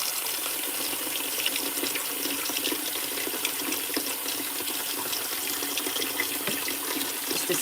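Cold water gushing from a tap into a plugged sink, a steady broad rushing splash that runs continuously and close without pause.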